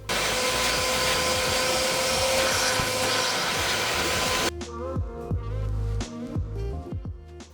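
Wet-dry vacuum cleaner pulling excess moisture out of a washed Volvo 850R car carpet, a loud steady roar for over four seconds that cuts off abruptly into quieter clattering handling noises.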